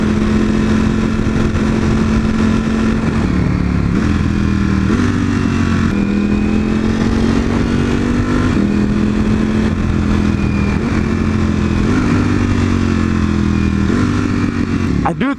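A motorcycle is ridden along a road, its engine droning loudly and steadily close by. The pitch climbs gradually and then drops at each gear change, under constant wind rush.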